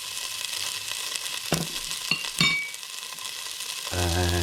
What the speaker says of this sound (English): we're just going to saute that for a little bit, lower the heat a little bit